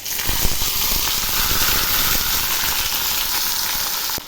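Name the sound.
potatoes and yardlong beans added to hot oil, sizzling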